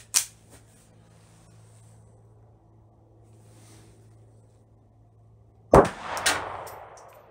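Handloaded .32 ACP pistol rounds, 71-grain full metal jacket bullets over 2.1 grains of Accurate No. 2 powder, are fired at a range. Two sharp, ringing shots come several seconds apart, with quiet between.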